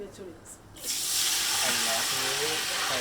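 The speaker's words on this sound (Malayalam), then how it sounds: "നമ്മൾ വെള്ളം ഒഴിക്കുകയാണ്" Water pours into a pot of Kozhikode-style chicken biryani with a steady, loud rushing hiss that starts abruptly after a brief moment of quieter kitchen sound.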